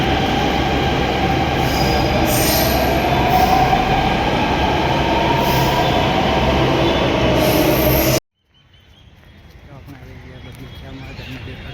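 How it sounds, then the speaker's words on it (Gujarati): A Delhi Metro train pulls into the station with a loud, sustained rolling roar and faint wheel squeal, then the sound cuts abruptly to a quieter platform ambience as it settles. "આ જુઓ મેટ્રો આવે છે"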